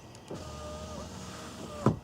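A GM car's left rear power window motor runs steadily for about a second and a half with a close, whining hum, then stops with a sharp thump as the glass seats.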